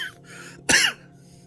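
A single short, harsh throat-clearing cough bursts out close and loud, standing alone against a quiet, faintly humming room, from someone with a lingering cough.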